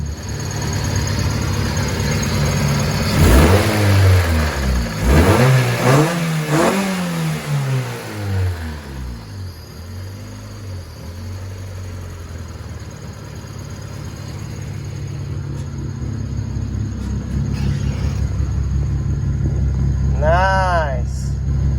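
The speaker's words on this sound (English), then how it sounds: "So the good thing is the idle looks like it's getting better" A Honda Civic with an ongoing rough-idle problem revs up and down several times, then settles into a lower, steady idle, while people talk close by throughout.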